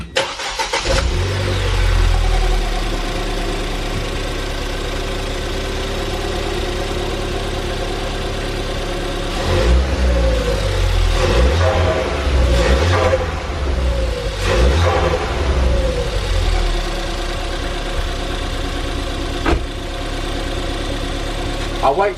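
A Ford Fiesta ST fitted with a stage 3 intake starts up and settles into a loud idle, then gives several short revs that rise and fall, close to the car.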